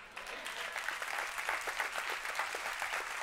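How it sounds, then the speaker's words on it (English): A church congregation applauds, dense continuous clapping filling the room steadily from start to finish with no voices over it. "I appreciate all of the applause"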